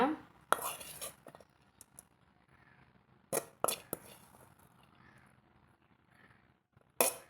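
Cooked keerai poriyal, a Tamil greens stir-fry of manathakkali keerai, is spooned into a serving vessel, with a few sharp metallic scrapes and clinks spaced out between quiet stretches.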